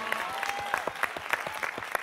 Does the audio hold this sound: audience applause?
yes